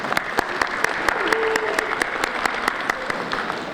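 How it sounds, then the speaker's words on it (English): An audience at the 39th Annual Quill Awards gives a steady round of applause, with crisp individual claps standing out from the wash and faint voices underneath. "Let's give it a round of applause, yeah?"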